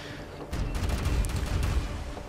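Ship cannons firing a broadside in Pirates Online, a rapid volley of overlapping booms and cracks breaking out together after a brief quiet start and rumbling on for a couple of seconds.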